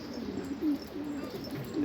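Soft, repeated low cooing rises from many pigeons kept in a large loft, the calls overlapping in a continuous murmur, and no one talks.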